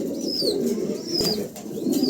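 A pair of pigeons coos softly and steadily over low background noise, with a few faint higher calls and rustles through the short stretch.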